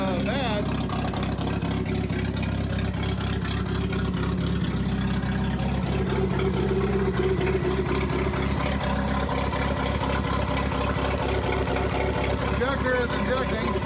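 A Jeep YJ engine idles loudly through a bad muffler, a steady rough rumble with a rapid pulsing putter, running continuously with a voice talking briefly over it.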